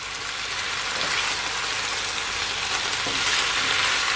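Brown stewed chicken pieces sizzle steadily in a single pot on the stove, a dense, continuous frying hiss with faint scraping as the meat is stirred and mixed through, no voices.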